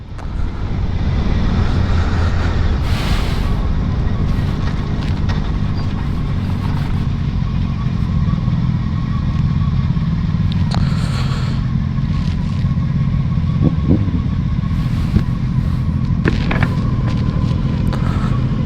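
A motorcycle rides steadily along a countryside road, its engine hum and wind roar close and constant throughout with no break.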